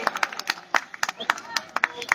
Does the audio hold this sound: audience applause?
yes